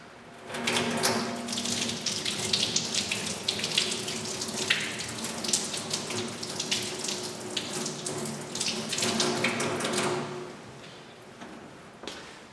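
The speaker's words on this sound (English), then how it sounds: "we're going to turn the water on, make sure it's reasonably warm" Warm water runs steadily from a sink tap for hand washing, a continuous splashing hiss lasting about nine seconds before easing off near the end.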